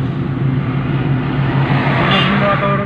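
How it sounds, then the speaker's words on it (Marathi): Road traffic passing near a hill station after rain, a continuous low engine rumble from vehicles going by, rising slightly toward the end, with a voice speaking over it. "हे बघा ट्रॅफिक रोडला"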